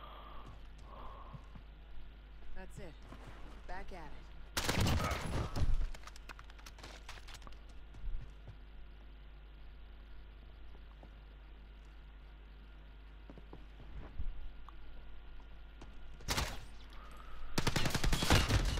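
Bursts of AS Val rifle fire in a video game: a sustained automatic burst around the middle, then shorter volleys near the end, loud against a quieter in-game background.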